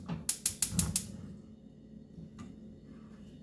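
A home stove burner being switched on: a quick run of five sharp igniter clicks, close and loud, then a soft whoosh as the flame catches, followed by quiet.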